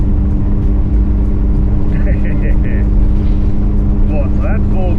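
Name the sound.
Chrysler 245 Hemi engine idling with Edelbrock 650 carburettor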